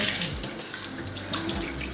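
Cooked egg noodles rinsed under a running kitchen tap, a steady close splashing rush of water hitting the noodles and sink, heard alone.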